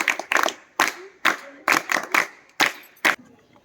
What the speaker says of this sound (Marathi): आपण टाळ्या वाजूया